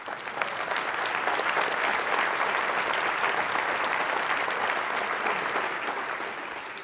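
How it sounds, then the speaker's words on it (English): A crowd at the Legacy of Hope 2018 gathering breaks into loud, sustained applause honoring Willie Stewart. The clapping holds full and even before easing slightly at the very end. "clap for him"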